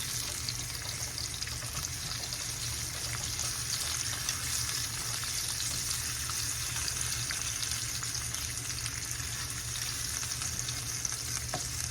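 Skin-on salmon fries in a pan with a steady, even sizzle that holds unbroken and fairly loud for the whole stretch, with no talk over it.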